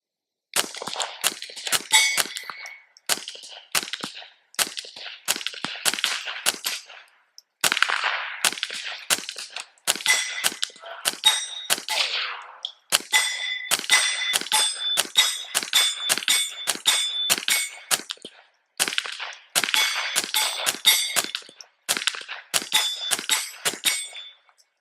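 A KelTec CP33 pistol fitted with an MP7-style conversion kit emptying a full magazine at steel targets outdoors, with rapid strings of loud shots and ringing clangs of hits on steel, separated by brief pauses.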